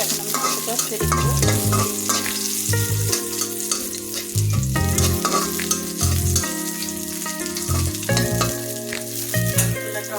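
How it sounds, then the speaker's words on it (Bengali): Beef goes into a pan of fried onions, crackling with a loud, continuous sizzle broken by repeated stirring scrapes, set against a tonal backing that sounds like music. "পেঁয়াজটা আমার ভাজা হয়ে গেছে। এখন আমি মাংসটা ছেড়ে দেবো।"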